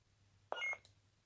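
Lightsaber sound board giving one short electronic beep while its button is held, a single clean tone near the middle, quiet and isolated against a faint low hum.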